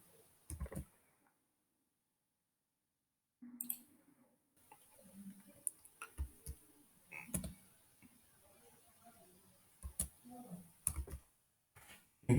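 Computer mouse clicks while working in AutoCAD 2012, sparse sharp single clicks spaced a second or two apart over a quiet room background, with faint soft murmur in between.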